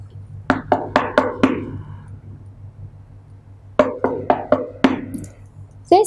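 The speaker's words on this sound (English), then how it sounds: "This is the sound of the board." Knocks on a classroom board, two quick bursts of about five raps each, sharp, fairly close and evenly spaced, with a short pause between groups and a faint low hum underneath.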